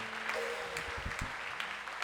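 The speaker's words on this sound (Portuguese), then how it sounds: "Pode aplaudir mais forte, querido. Aplauda a Ele." Church congregation applauding in worship to honor the Lord, a dense, steady wash of many hands clapping throughout, fairly loud and continuous.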